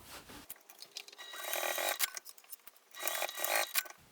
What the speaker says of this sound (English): What I'm going to do now is I'm going to just baste on both sides of my handle.